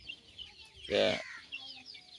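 Chickens kept in a large wooden pen with netting overhead give one loud, close burst of clucking midway, surrounded by quieter, faint fowl sounds before and after.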